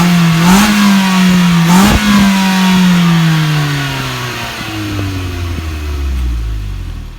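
A Mitsubishi Lancer Limited Edition's exhaust is revved loudly at close range in a couple of sharp blips. The engine note then falls smoothly back toward idle, and no one speaks.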